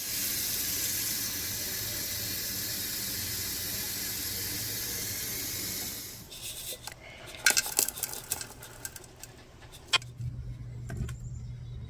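Tap water runs steadily and loudly into a kettle or sink for tea, then stops abruptly, giving way to scattered clinks and clatter of dishes and cutlery nearby.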